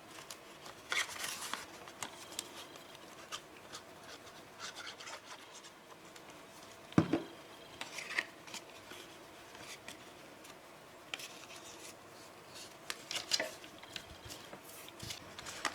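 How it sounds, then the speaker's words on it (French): A small paper envelope is folded and closed by hand during craft work on a leather steampunk album, giving sparse quiet scratches, rubs and crinkles with occasional sharper taps across a hushed room. "je vais pouvoir fermer mon enveloppe"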